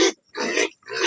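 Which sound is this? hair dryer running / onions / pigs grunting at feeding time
pigs grunting at feeding time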